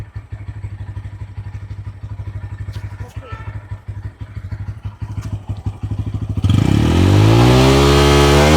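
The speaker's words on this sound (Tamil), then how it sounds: "இந்த பைக் சவுண்ட் வந்து உங்களுக்கு எப்படி இருக்குது?" A Bajaj Pulsar N160 motorcycle engine idles with a steady pulsing thump, then revs up loudly and holds a high, roaring rev near the end.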